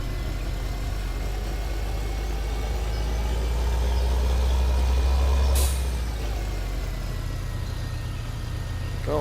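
A tractor engine strains in third gear under a heavy load, a steady, loud low rumble throughout with a brief sharp hiss near the middle, close by and with no talking.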